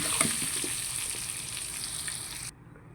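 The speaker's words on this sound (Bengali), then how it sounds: "দুই থেকে তিন মিনিট সুন্দর পেঁপেটা ভেজে নেব" Thick papaya chunks dusted with turmeric fry in a hot pan, giving a close, even sizzle that stops abruptly near the end.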